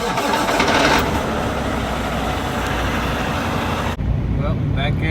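A truck engine cranks and runs after a starter repair, giving a loud, close, continuous mechanical rumble that holds steady for several seconds, then drops abruptly as a quieter idle carries on.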